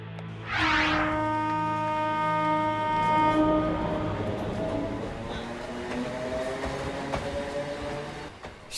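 An animated cartoon train sounds its horn as a loud, sustained multi-tone blast that slowly bends downward in pitch over a steady rolling rumble, lasting most of the clip.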